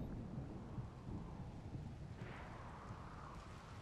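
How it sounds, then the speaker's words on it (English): A thunderstorm with steady rain in the video game RimWorld: continuous dense rainfall hiss over deep, rolling thunder rumble, with a brighter crack swelling partway through, loud and unbroken throughout. "dry thunderstorm, that's no good. But the rain's gonna put it out. It just started raining"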